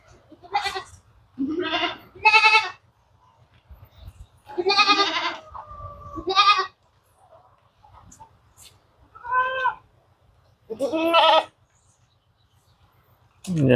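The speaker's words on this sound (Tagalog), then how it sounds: "Ito guys, yung ating kambing kumakain. Dahon ng niyog." Goats eating coconut leaves bleat repeatedly at close range, a series of separate wavering cries with quiet gaps between them, over faint rustling and low background hum.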